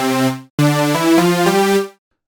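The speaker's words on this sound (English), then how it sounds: "Basically this comes already with 2 supersaws, already duty and multi, and it will sound like this." Two layered supersaw synth tones from Diva, set to duty and multi modes in a progressive house DJ template, play a short arpeggiated phrase: one sustained chord, a brief gap, then a run of stepping notes that stops cleanly.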